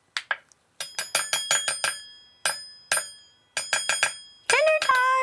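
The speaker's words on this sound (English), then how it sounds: "Why is everyone ringing the bell?" A bell rung for dinner in a home kitchen, in several close, loud bursts of quick bright rings separated by short pauses, ending with a longer, denser jangle.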